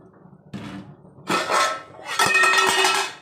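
A knife poked into cooked jun, a milk pudding, inside a metal pot, giving a few clinks and scraping knocks of blade against pot, close and fairly loud, with no talk.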